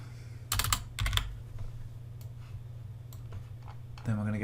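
Computer keyboard keys clack in a couple of quick bursts of close taps, then a few sparse clicks under a steady hum, with someone talking.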